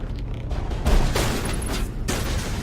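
Sniper rifle shots fire in the Mass Effect video game, with heavy booming reports and mechanical action sounds layered over a dense, loud combat soundscape.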